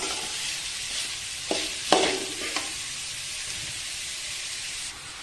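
Onions fry in a pan with a steady, soft sizzling hiss, broken by a few light stirring clicks and taps.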